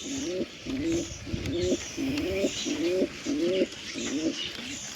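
Domestic pigeons in a breeding loft, a rhythmic series of low, rolling coos repeating steadily about every half second, close and clear with faint background noise and no talking.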